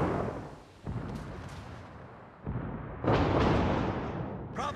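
Heavy naval guns firing in World of Warships, a series of deep booming blasts with rumbling tails, the loudest salvo arriving near the end, with no talking.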